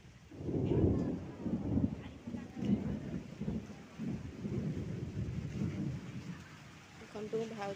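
Thunder rolls low and heavy through a downpour of rain, deep rumbles swelling and fading over a continuous hiss of falling water, with a voice faintly in the background.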